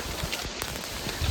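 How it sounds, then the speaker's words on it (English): Rain falls steadily on a cold mountain trail on Hallasan, Jeju, during an ultramarathon, a dense, even hiss of drops with no voices. "It's raining, it's cold."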